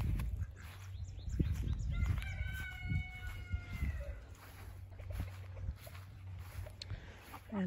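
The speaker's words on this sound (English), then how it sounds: "And we also have free-range chickens." Free-range chickens cluck and a rooster crows at a distance on a farm, faint against a quiet outdoor background with a low steady hum.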